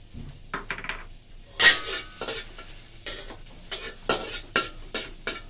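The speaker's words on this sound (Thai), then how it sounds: "จียวกระเทียมให้หอม" Utensils scrape and tap against a hot pan in irregular bursts over a soft, steady sizzle of garlic frying; no one speaks.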